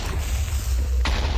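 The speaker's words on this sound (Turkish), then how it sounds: "Evet, onu patlattım." A blast goes off in Minecraft: a sudden, heavy boom lands about a second in, over a low, continuous rumble that holds steady before and after the hit.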